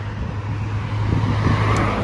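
Cars drive past on a dusty street on the island of Rhodes in Greece, a continuous mid-distance roadway hum that swells slightly as vehicles go by.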